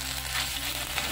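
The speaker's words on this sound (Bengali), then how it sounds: "এলাচ দিয়েছি আমি, দিয়ে ভালো করে আমি ভেজে নেব।" Cardamom and spices frying in a pan, a steady broadband sizzle that holds evenly from start to finish, close and fairly quiet, with no voices.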